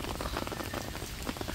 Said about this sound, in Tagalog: Lakas ng ulan, biglang bumuhos.